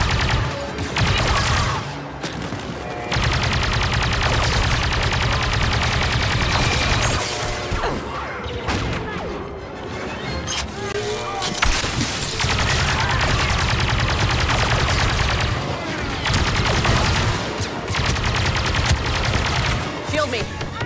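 A defensive turret in Star Wars Battlefront II fires in long rapid blaster volleys, loud and close, amid crashing explosions and other battle gunfire, with brief pauses between bursts and a voice talking occasionally.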